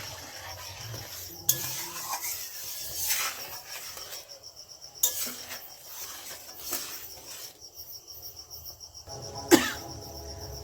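Milk boiling while being stirred for sesame naru: soft bubbling and sizzle under a steady stove hiss, punctuated by several sharp spoon scrapes and clinks against the pan, fairly quiet and close.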